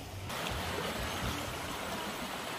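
A stream flows near rice fields in rural hills, a steady, full rushing of water that holds constant from start to finish with no voices.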